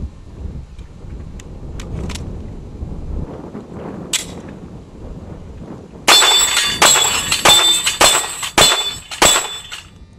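A Glock G17L pistol fired at an outdoor shooting range gives a string of about seven sharp, loud reports in fairly quick succession, preceded by faint clicks and a brief metallic snap while the gun is readied.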